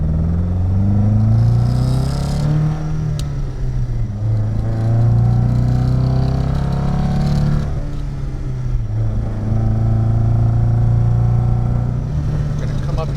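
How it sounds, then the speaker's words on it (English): A 1976 Jensen GT on the road, its Lotus twin-cam engine breathing through a straight-through exhaust, drones loudly and steadily with pitch rising and falling as it accelerates and shifts, heard close from inside the car. "Great Lotus engine though. Lotus twin cam. Pulls really well."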